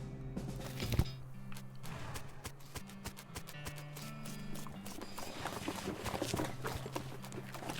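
Horse hooves clip-clop in the West of Loathing video game, a steady run of hoof beats over layered game music and ambience, moderately loud throughout.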